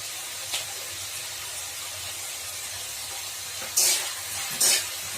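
Potatoes and ridge gourd frying with poppy seed paste in a pan, a steady soft sizzle and hiss with a few louder bursts of spattering and stirring.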